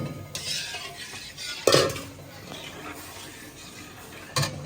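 Sugar poured into a pot of beet mixture and stirred, with soft scraping and rustling, a sharp clink of a spoon against the pot, and a light sizzle underneath, close by.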